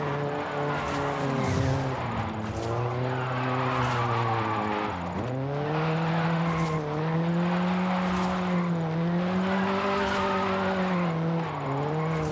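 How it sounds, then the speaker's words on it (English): A 1985 Toyota Sprinter Trueno with an Apex GT drift tune in Forza Horizon 5 holds a high, buzzing engine note through a long drift, with its pitch dipping and rising again at downshifts and a faint tire hiss underneath. "Unrealistic downshift while drifting."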